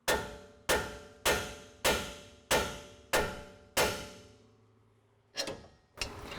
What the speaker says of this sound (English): We're going to hit the side of the spindle with a hammer